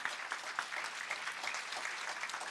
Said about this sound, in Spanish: Muchísimas gracias. Un fuerte aplauso.